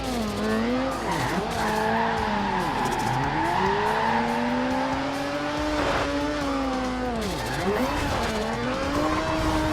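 A car drifting in Forza Horizon 2, long wavering tire squeals rising and falling through repeated slides while the engine revs and drones steadily underneath, loud and close, with no talking.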